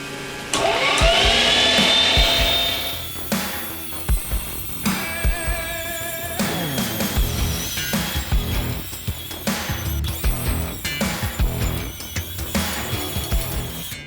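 Meat grinder working through chunks of beef chuck and beef belly, opening with a loud whining motor surge, then a stretch of irregular clunks, squeaks and grinding bursts close by, with no voices.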